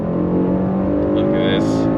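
A 2025 Mercedes-AMG GLE63 S coupe SUV engine revs up steadily under acceleration, its tone climbing and droning close to the listener for a couple of seconds.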